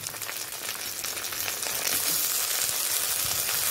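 Chopped tomatoes fry with browned onions in a pan over medium heat for Bengali muri ghonto, a constant crackling sizzle that grows slightly louder, heard up close without voices.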